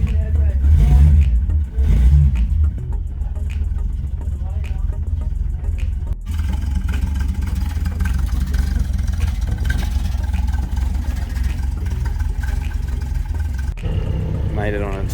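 A Holden Torana's engine revs and drones steadily while being driven, loud and close, with a brief gap midway and people talking over parts of it.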